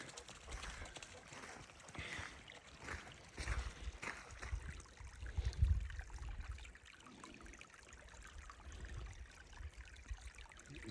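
Water runs and trickles over rocks at a spring dispersed campsite, a steady, close gurgling flow with louder splashy moments midway and low rumbling underneath.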